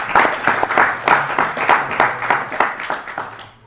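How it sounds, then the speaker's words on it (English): An audience at a spiritual talk gives a round of applause, dense steady clapping from a modest crowd close by, fading toward the end. "Please give them a big round of applause."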